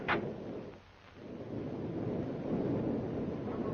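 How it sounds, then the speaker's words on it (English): Thunder from a lightning strike in a storm, starting with a sharp crack and then a sustained low rolling rumble with wind-like noise, moderately faint. "Lightning bolt strikes this bag."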